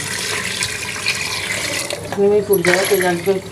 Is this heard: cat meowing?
no